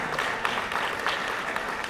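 Steady, dense applause from a banquet audience at a chamber of commerce awards dinner, a continuous wash of many hands clapping at close range.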